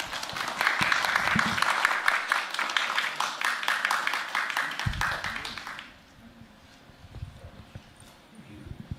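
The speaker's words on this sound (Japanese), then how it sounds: "はい、みんな拍手。" Church congregation applauding during a Sunday service for visiting guests, dense clapping for about six seconds before stopping abruptly, leaving quiet room sound with a few soft knocks.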